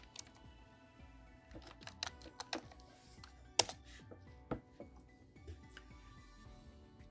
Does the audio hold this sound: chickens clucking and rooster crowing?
no